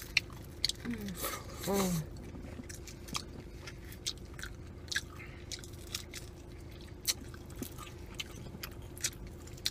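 Crispy chicken wing is bitten and chewed up close, with a crunchy bite and wet squishy chewing amid quiet murmurs of enjoyment and soft background noise.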